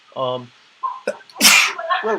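One person sneezes sharply and loudly during a panel discussion, with short spoken exclamations just before and after it.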